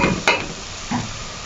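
Spices drop into hot oil in a pan for egg curry, a steady sizzle with two brief sharp stirring scrapes, close and fairly loud.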